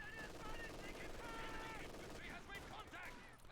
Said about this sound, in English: MG42 versus Rifles in the centre.